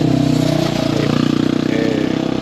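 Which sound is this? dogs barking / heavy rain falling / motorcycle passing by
motorcycle passing by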